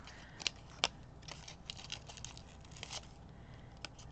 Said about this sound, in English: So I'm just taking the easy way out here and snip